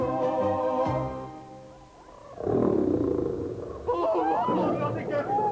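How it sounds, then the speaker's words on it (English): A lion's deep, rumbling roar swells loud and close, then cuts off, while a second, higher growling roar rises after it, both under a busy background with some voices. "Have you ever heard a lion roar?"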